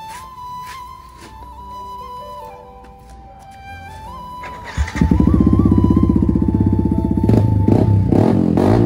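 After a few seconds of a steady tonal hum, a Yamaha MT-15 V2 motorcycle with its stock exhaust fires up nearby and settles into a loud, throbbing idle, with a couple of rising revs near the end.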